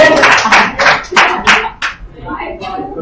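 A small group gives a round of applause for participants in a class session, loud close hand claps in uneven bursts that thin out and soften toward the end.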